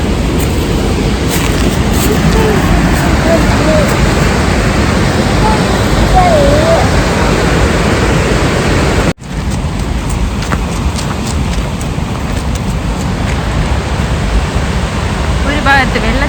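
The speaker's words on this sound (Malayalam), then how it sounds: "ഒരു ഭാഗത്ത് വെള്ളച്ചാട്ടം" Waterfall at Kearney Lake Dam in Halifax roars as a loud, dense, continuous rush close by, with a brief cut midway and faint voices under it.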